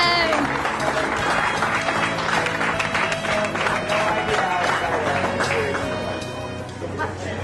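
A crowd cheering and applauding at the Nintendo Switch 2 launch, a dense, loud wash of clapping, whoops and babbling voices that holds steady and then eases slightly toward the end.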